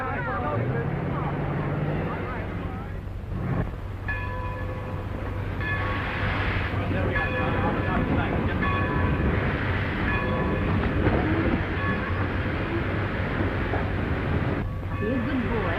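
A 1930s steam train pulls away from a station platform, a steady loud rumble with rail clatter and hiss throughout, voices of people saying farewells heard over it.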